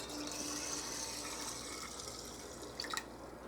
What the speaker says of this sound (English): I'm just going to use some cold water, and I'm going to fill them right to the neck.